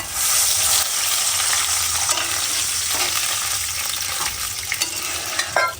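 Onions fry in a pan until reddish-brown, a loud close continuous sizzle with spatula scrapes and stirs, and a few sharper clicks near the end.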